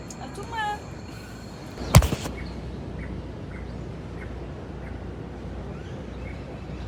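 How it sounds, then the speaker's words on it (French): Birds chirp and call at dawn in the Colombian jungle, faint scattered tweets over a dense insect and forest hum, with one sharp louder knock partway through and a voice talking at times. "Je sais pas si vous entendez, il y a des oiseaux."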